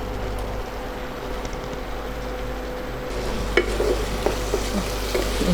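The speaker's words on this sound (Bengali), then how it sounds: "এবার এই টমেটো, পেঁয়াজ আর আদা বাটা সবটা ভালো করে একটু কষাতে হবে" A tomato, onion and ginger paste sizzles steadily in a pan while being sautéed for a Bengali fish curry, a constant close fry with a few sharp stirring clinks near the end.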